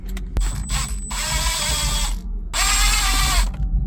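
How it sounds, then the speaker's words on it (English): Phillips head screws being backed out of the lower dash trim of a 2017 Subaru Outback with a powered driver, two loud, steady whirring bursts of motor and ratchet-like clicking, close up, with no talk. "relieve two Phillips head screws down here at the bottom. Let's go ahead and take those out."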